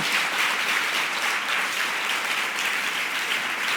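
Church audience giving a loud, sustained round of applause during a service, dense clapping holding steady from start to finish with no voices on top.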